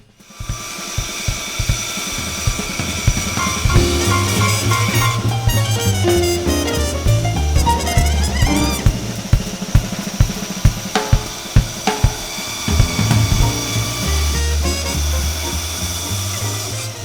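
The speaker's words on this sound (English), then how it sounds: "So we're going to go ahead and take this to the bandsaw." A bandsaw cuts hardwood stock for a rocking chair rung, giving a steady close whine with rising and falling pitch and repeated sharp ticks as the blade feeds through the piece.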